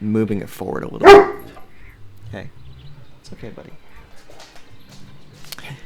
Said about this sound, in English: if you hear anything in the background, that's my dogs